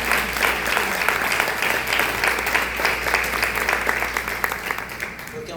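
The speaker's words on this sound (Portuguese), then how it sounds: "dá uma linda salva de palmas para o Senhor Jesus" A church congregation applauds in a steady, loud, dense wash of clapping that fills the room and continues throughout without a break.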